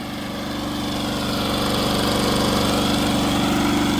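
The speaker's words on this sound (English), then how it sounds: "That's all that lawnmower wanted to do was work." A small walk-behind lawn mower engine runs steadily and close by, a constant mid-pitched drone that swells slightly over the first second and then holds even.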